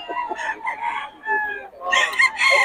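Bullstag rooster, about three years old, crowing loudly and close at a cockfighting-bird market, with several drawn-out harsh crows and clucks one after another and no one talking.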